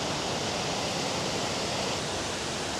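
Yoro Falls in Chiba's Yoro Valley, swollen after flooding, roars as a steady, dense wash of falling water that fills the scene evenly without pause or voices.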